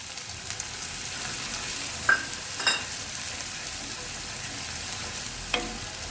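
Chopped green garlic sizzling in oil over a low flame for a radish-leaf sabzi, a steady soft hiss broken by a few brief clinks of stirring.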